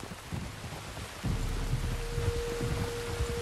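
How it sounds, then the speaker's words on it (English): Steady rain hiss with low rumbling thunder in Red Dead Redemption II, a dense wet wash that swells louder partway through and holds as a continuous storm bed. "You were right about the damn rain."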